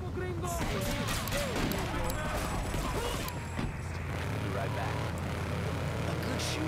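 Enemy gunfire in Grand Theft Auto III pops repeatedly and irregularly against dense game noise and rumbling, with someone talking over it.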